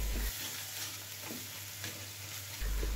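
Spinach and mashkalai lentil dal sizzles and fries in a pan while being stirred, a steady close hiss with faint scraping strokes and no talk.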